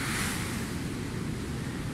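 Sea waves at an Ibiza beach give a steady, loud wash of surf noise with wind mixed in, close and continuous, with no voices.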